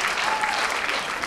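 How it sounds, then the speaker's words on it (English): Audience applause for the graduates at a university talent competition, a dense steady burst of many hands clapping throughout, with faint cheering mixed in. "Let's give another round of applause"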